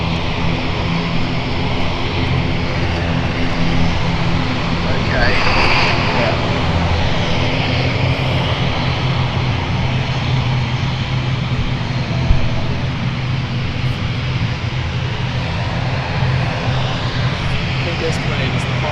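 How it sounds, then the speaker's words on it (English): An ATR 72 turboprop airliner of Loganair taxiing onto its stand at London City Airport, a loud steady engine drone and propeller hum that stays close and constant throughout. "You've just got right now going on to stand for an ATR 72 of Luxair,"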